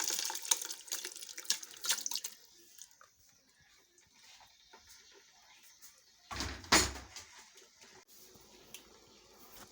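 Mixed water and meat are poured into a steaming pot while native oha soup is being prepared: faint splashing and trickling at first, then one louder splash partway through, quiet overall.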